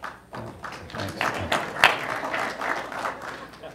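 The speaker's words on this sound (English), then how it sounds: "I hope that's not the last applause I get." Audience applause follows GM chief executive Dan Akerson's mention of record profits: a fairly loud burst of mixed clapping with a few sharper claps, lasting just under four seconds.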